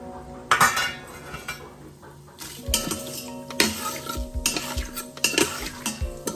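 Biryani spices stirred in hot oil in a pot, metal utensil scraping and clinking against the pan over a steady sizzle, close and continuous with no talking.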